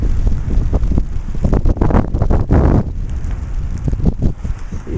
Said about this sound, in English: It's very chilly, it gets a little windy.